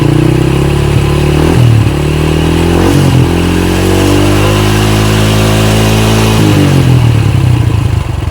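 A motorcycle engine fitted with an automatic hazard-flasher box runs loud and close, rising and falling through several throttle revs with a steady idle beneath and no talking.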